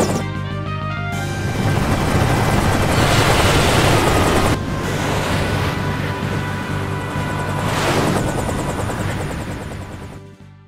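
Airship landing at a castle in Final Fantasy IV, a loud, steady mechanical rotor-like whir and rumble that swells, drops sharply midway, surges again and then fades, with no voices.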